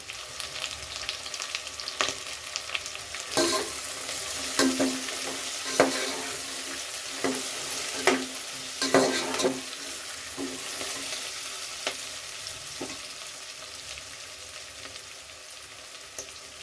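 Bisi bele bath ingredients frying in a pan, a steady close sizzle with intermittent stirring scrapes and clinks, no voices.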